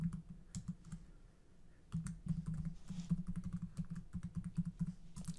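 Someone enters a username and password on a computer keyboard, producing quick, quiet bursts of key clicks with brief pauses between them.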